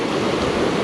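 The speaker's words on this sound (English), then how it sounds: "where the waves come in and out." Ocean waves wash in and out of a rocky tide pool below sea cliffs, a dense, steady rushing of water that is loud and continuous for a brief moment.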